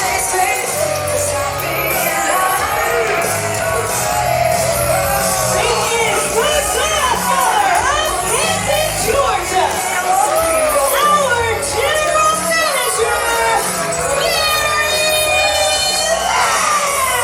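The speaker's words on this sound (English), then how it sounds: "the crowd is going crazy for our general manager" A wrestling crowd in the Action Building arena in Canton roars with sustained shouting, whooping and yelling, a dense, loud wall of voices that stays near and constant throughout.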